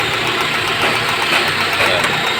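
Mitsubishi Lancer engine running steadily after being started, a continuous broadband mechanical drone with a slightly rough, misfiring character, close and fairly loud throughout.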